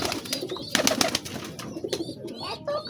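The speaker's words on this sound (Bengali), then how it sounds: "এই দেখো এবার কালা কালা কবুতরটা গোসল করছে" A black pigeon bathes and coos, with soft throaty coos and brief splashy, fluttering bursts close by over a steady outdoor background.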